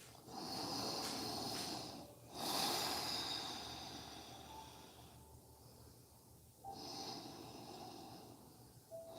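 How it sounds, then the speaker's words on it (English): Slow, steady breathing during a yoga squat pose, held with hands in prayer position: long soft exhalations and inhalations in a quiet room, close and gentle, with no talking. "and just breathe"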